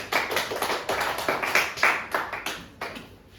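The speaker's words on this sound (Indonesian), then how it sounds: "Beri tepuk tangan dulu dong buat teman-teman" A classroom of students claps for their classmates, a short ragged round of close, quick hand claps that tapers off over a few seconds.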